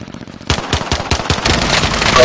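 Machine gun fire in Call of Duty Warzone, a loud, rhythmic string of rapid shots starting abruptly and continuing in quick regular bursts, close and dominant.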